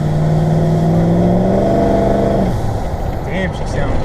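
A Ford Powerstroke 6.0 diesel truck drives on a test run after FICM repair, its engine a loud steady drone heard from inside the cab, with a shift in pitch partway through and someone talking over it.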